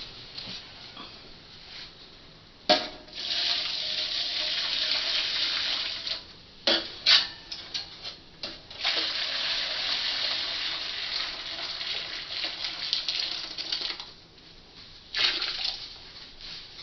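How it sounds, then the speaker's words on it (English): Boiling water pours and splashes in bursts into a roasting pan holding coffee cans, a gushing stream starting and stopping several times, close by. "now I'm going to put the boiling water in the pan up to"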